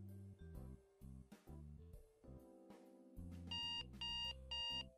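A washing machine buzzer sounding at the end of a cycle: a string of electronic tones and melodic beeps in short bursts, ending in repeated high chimes, fairly faint and heard alone.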